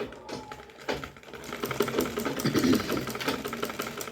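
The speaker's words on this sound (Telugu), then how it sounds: "చూడండి, ఈ పావు ఇంచి మందంగా నేను కుడుతున్నాను" Up close, a sewing machine runs a steady stitch, a quarter inch from the edge, along a folded blouse lining at the neckline. The motor whirs continuously with a fast, ticking needle rhythm.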